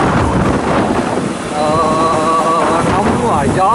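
Wind buffeting an outdoor microphone on the coast of Nghe An, Vietnam, a loud continuous low rumble that fills the whole stretch, with a faint voice surfacing briefly near the middle.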